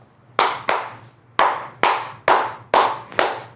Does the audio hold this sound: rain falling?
no